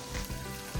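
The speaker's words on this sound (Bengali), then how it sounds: "পেঁয়াজ দিয়ে দিয়েছে, পেঁয়াজ আর জিরা ফোড়ন দিয়েছে।" Fish curry cooking in a pan, with onion and a cumin-seed tempering sizzling in hot oil, gives a short, steady frying hiss with a couple of soft stirring bumps.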